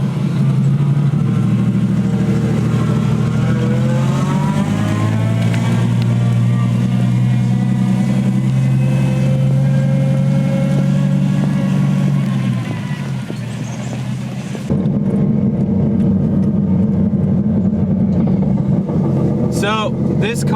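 Engine of a Nissan 240SX with a swapped 1JZ inline-six running loud and close while the car is driven, a steady droning rumble that dips briefly before picking back up.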